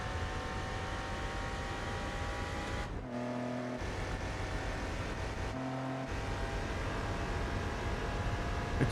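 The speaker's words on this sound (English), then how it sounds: "I'm really struggling with the sound of the engine." A Mitsubishi 3000GT engine roars steadily in Gran Turismo 4, a loud sustained drone with two brief dips where the pitch drops during gear shifts, and no talk over it.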